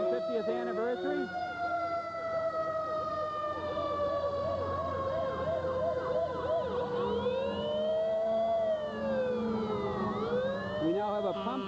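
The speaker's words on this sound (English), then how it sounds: "It's going to be hard to hear me over the sirens" Fire apparatus from neighboring towns parade past during a town's 350th anniversary celebration, their wailing sirens sweeping up and down loud and continuous, several overlapping at once, with a crowd and a voice faintly beneath.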